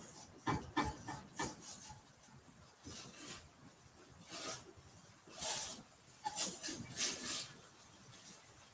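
Spatula scraping AIP gluten-free pancakes in a pan, with intermittent soft rasping strokes and a faint sizzle hiss, close and fairly quiet, with no talk.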